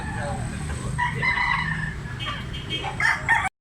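A 3.5-month-old big-size stag, a young rooster for sale in Tabunok, Cebu, crows near and loud, the call rising and breaking over steady background noise, with a second crow-like burst near the end.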